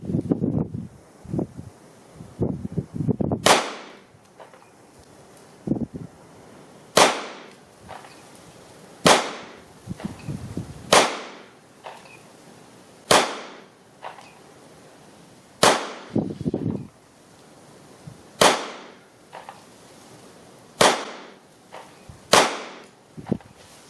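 A Mossberg MC2sc 9mm pistol fires a string of single shots, each a loud sharp crack spaced a second or two apart, with quieter handling clicks and rustle in between outdoors.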